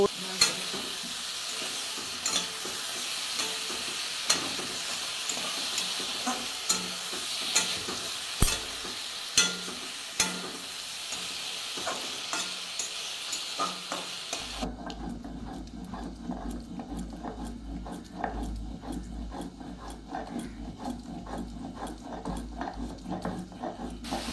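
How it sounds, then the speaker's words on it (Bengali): Pointed gourd and ridge gourd frying with cumin paste and ginger paste, a soft continuous sizzle with scattered scraping stir clicks, the tone shifting partway through to a duller, lower hiss. "বোন রান্না করছে পটল ঝিঙে দিয়ে, একটু জিরে বাটা আদা বাটা দিয়ে"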